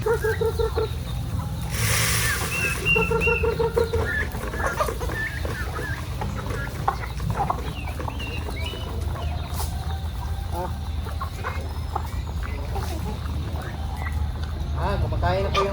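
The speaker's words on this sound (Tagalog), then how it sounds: "Kumakain na po yung ating mga alagang manok at tambayan, no?" Farm chickens and breeders cluck while feeding outdoors, a busy mix of scattered clucks over steady background noise, with someone talking throughout.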